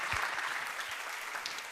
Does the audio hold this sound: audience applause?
yes